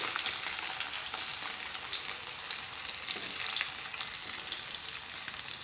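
Curly chilies hit hot oil and fry in a wok while being stirred, a bright, dense sizzle that holds steady throughout with scattered crackles and stirring scrapes, no speech.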